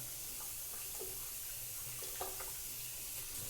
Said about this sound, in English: this is kind of how I usually wash my hands